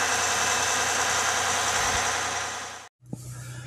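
A Jeep Gladiator engine runs at its factory high idle, a steady loud mechanical drone that cuts off abruptly near the end before a quieter low hum returns.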